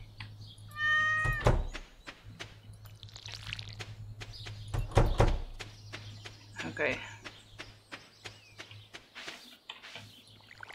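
A cat meows in the Stardew Valley farming game, with one upward-bending meow early and a second meow a few seconds later, both moderately loud over quiet game music and soft footstep ticks.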